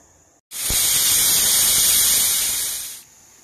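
A pressure cooker on a stove flame lets out a loud, steady steam hiss with a whistling tone for about two and a half seconds, close by, then it cuts off.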